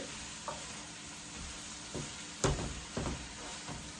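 Kale being stirred in a pan gives soft scraping and clacking knocks of a utensil, a few irregular strokes over a quiet, low sizzle, heard close and fairly faint with no speech.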